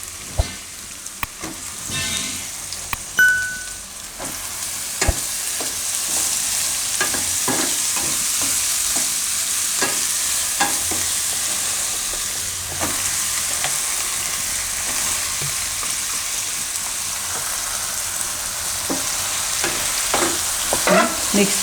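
Eggplant pieces frying in hot oil with garlic for a methi ringna shaak, a continuous close sizzle broken by repeated scraping and knocking as a spoon stirs the pan, no voices.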